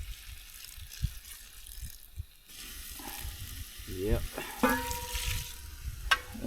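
Lake water poured from a pail over hot campfire coals, giving a steady broadband hiss and sizzle with some clatter of the metal lid, while a voice speaks briefly.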